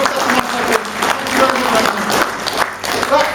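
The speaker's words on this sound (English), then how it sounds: "Let's give Anthony a round of applause." A live audience gives a round of applause during a magic-style stage presentation, a dense sustained clatter of many hands at fairly loud level, rising and dipping slightly over a few seconds.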